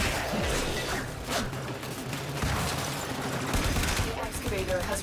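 Enemy gunfire in the video game Warframe, a continuous rattle of rapid shots and impacts, loud and busy throughout, with a voice talking underneath the battle noise.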